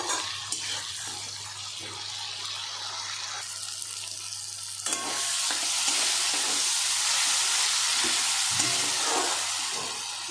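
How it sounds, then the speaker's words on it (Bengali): Tomato with mustard and green chilli paste, salt and turmeric frying in a pan for a mustard fish curry, a steady close sizzle that grows louder and fuller about halfway through. "এবার একটু ভাজা ভাজা করব"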